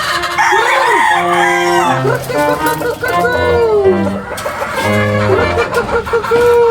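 Chickens cluck and squawk loudly and continuously close by, with a rooster-like crow mixed into the busy flock noise.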